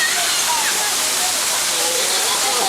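A resort waterfall in Jamaica pours in a loud, constant broadband rush of falling, splashing water, close by and unbroken throughout, with faint voices under the roar.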